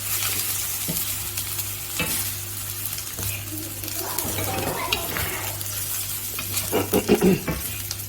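Ground turmeric, cumin, coriander and chili powder sizzle and fry in a hot pan for a lamb dish, with a spoon stirring steadily throughout, scraping louder near the end; no talking.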